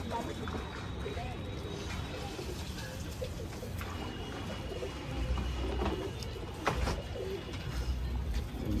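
Sakdum pigeons coo softly within a loft, a low continuous murmur of cooing and rustling beneath someone talking nearby.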